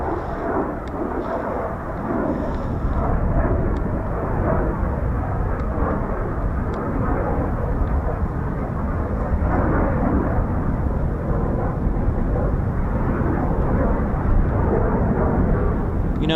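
Embraer Phenom business jet on a low approach pass near a busy military airfield, a steady broad jet roar holding loud and sustained throughout, with no voices over it.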